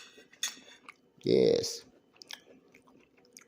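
Chewing a forkful of Romanian tenderloin with cheesy pasta, close and soft, with one brief, fuller burst of mouth noise midway between short spoken words.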